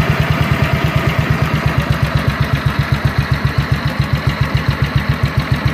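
A 1950 BSA B31 350cc single-cylinder motorcycle with heavy gearbox idles steadily, its slow, even thumping pulses repeating close and loud with no talk.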